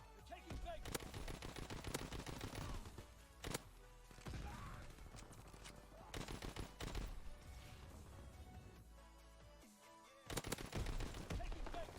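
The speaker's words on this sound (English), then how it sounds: "he's shooting me from the sky" Rapid bursts of automatic gunfire and single shots from the World War II shooter Call of Duty WW2, loud and dense across the whole stretch, with brief pauses between volleys.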